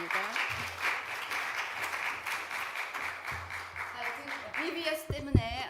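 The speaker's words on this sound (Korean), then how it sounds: "우리 이혜선 목사님 나오실 때 감사의 박수로 환영해 주시기를 바랍니다" A church congregation claps to welcome Pastor Lee Hye-seon at an early-morning revival service, steady rhythmic clapping over a low sustained tone, with a brief burst of other sound near the end.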